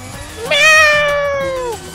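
A cartoon cat in the racing video game Team Drift Cats lets out a single loud, drawn-out meow with a rising then slowly falling pitch, heard clearly over a low, steady game background.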